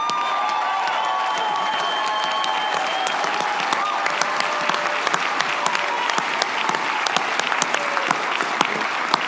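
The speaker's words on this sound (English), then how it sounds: "can you do me a favor and give him a round of applause?" Audience at a Ted Nugent Spirit Campfire event gives a round of applause with some cheering: dense, continuous clapping with sharp individual claps standing out near the end.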